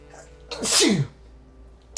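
A single sharp, loud sneeze bursts out near the middle, with a short voiced tail and quiet room tone before and after.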